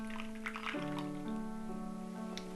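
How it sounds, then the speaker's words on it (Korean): Water poured from a kettle for tea inside a small wooden house makes a steady, fairly quiet pour with a ringing tone that shifts pitch as the vessel fills. "근데 이 물 따르는 소리가"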